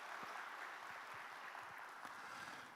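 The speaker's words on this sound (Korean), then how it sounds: "잠깐 일어서시면 저희가 박수로 위로의 인사드리겠습니다" A church congregation applauding, a faint, distant, steady patter of many hands clapping that continues evenly throughout.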